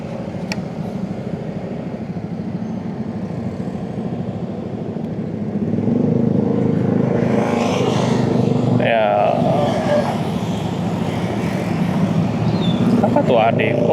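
A Yamaha X-Max scooter on a night street swells in loudness as it passes near, its engine hum rising over steady traffic noise while someone talks over it.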